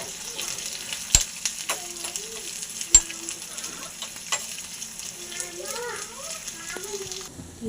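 Chopped ginger and green chilies frying in a pan for a morning breakfast dish, a soft steady sizzle with sharp spatula clicks and stirring scrapes, while someone talks over it.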